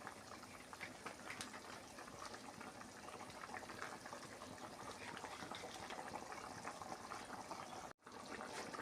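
Fish curry with potatoes simmering in a pot, a faint continuous bubbling and watery burble at low volume, steady throughout with a brief dropout near the end.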